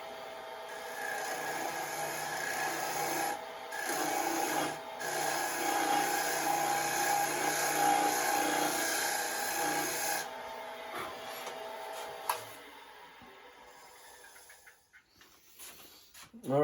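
A finer turning tool cuts across the face of a segmented wooden spintop on a lathe, producing a steady scraping whir with a faint tonal hum. The cutting stops partway, followed by softer handling noises.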